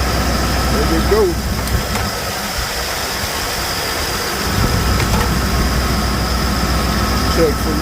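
LS-swapped V8 engine in a 1999 OBS truck idling steadily with a low, even rumble, close up, with someone talking briefly over it.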